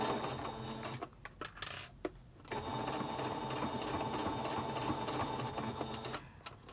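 A sewing machine runs in steady bursts while stitching a pleated fabric mask with interfacing, with short pauses between runs and a close, even mechanical whir.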